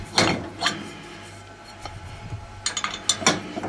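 Dishes are set down for washing with a few sharp clinks and clatters of crockery and cutlery, spaced unevenly over a quiet background hum.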